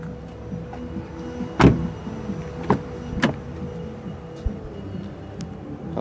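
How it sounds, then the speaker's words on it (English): Electric windows in a 2016 SEAT Leon SE Technology hatchback, a low steady motor whine with a few sharp clicks and thuds as the glass stops, heard close up in a quiet cabin. "Has 4 electric windows,"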